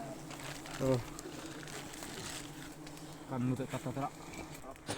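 Honey bees swarm and buzz around a hive during a nighttime wild honey hunt, a steady droning hum with louder bursts, heard under people talking.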